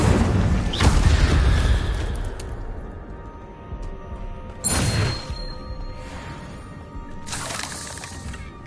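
Incendio fire spell cast in the game Hogwarts Legacy, a burst of whooshing flame and crackling impact over a dense rumbling game soundscape, with several sharp bursts spaced a few seconds apart.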